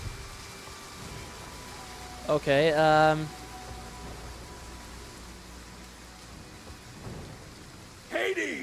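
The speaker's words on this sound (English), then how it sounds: "Thunderstorm predicted." Steady rain and distant thunder from a thunderstorm in the strategy game Total War Pharaoh Dynasties, a continuous wash of rainfall with brief tonal game sounds on top and a short spoken word.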